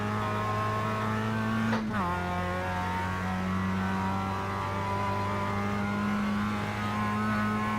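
A 2017 Mazda MX-5 in iRacing at Lime Rock: the engine rises steadily in pitch under throttle, drops sharply with a quick shift or lift, then climbs again, loud and continuous.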